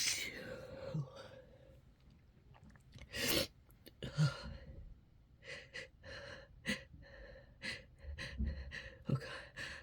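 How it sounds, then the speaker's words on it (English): Quiet, close-up sneezes from a person who keeps sneezing, mixed with sharp gasps, breathy intakes and snorts spread across the stretch, along with some hushed talk. "I have to sneeze again."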